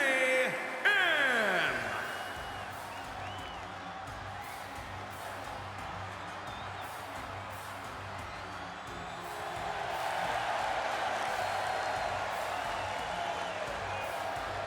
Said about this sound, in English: I don't really understand why they're cheering for him.